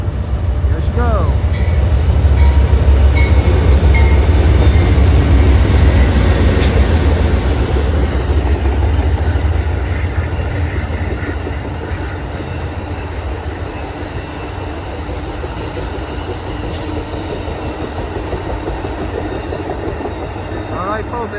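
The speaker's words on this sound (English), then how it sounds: "Alright folks, there go that train." Triple-header Amtrak California Zephyr passenger train passing in cold weather near Sparks, Nevada, a loud rumbling roar and rail clatter that gradually fades as it moves away, with someone talking.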